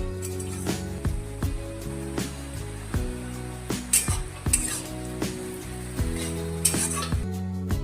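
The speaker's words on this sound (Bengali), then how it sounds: "পেঁয়াজটা একটু লাল করে ভাজলে কালারটা ভালো আসবে" Sliced onions fry in a pan for a wedding-style mutton kosha, giving a continuous sizzle with occasional stirring scrapes, all under steady tonal background music.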